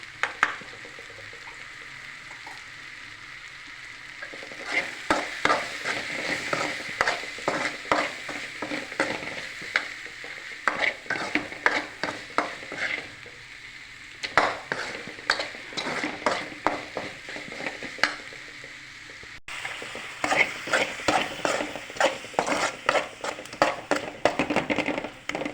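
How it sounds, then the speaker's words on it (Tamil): Masala with chili powder, green chilies and asafoetida sizzles in a pan under a steady hiss, while a spoon scrapes and stirs in repeated close, sharp strokes through most of the stretch. "இப்போ இது மசாலாலாம் வதங்கிடுச்சு"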